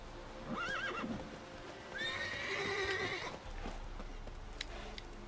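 A horse whinnies twice, high and wavering, with hooves clip-clopping in between, in The Witcher 3: Wild Hunt.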